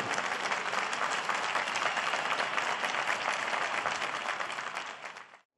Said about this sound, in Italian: E un applauso forte.